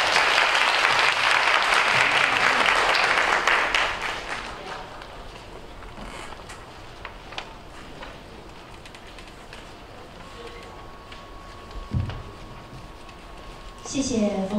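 A seminar audience breaks into warm, full applause welcoming the host, loud for several seconds before dying away into a quiet room with faint movement and a voice near the end.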